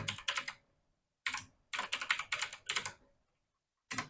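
Keys clatter on a computer keyboard in quick clusters of taps separated by brief pauses, close and crisp, with a final isolated keystroke like an Enter press.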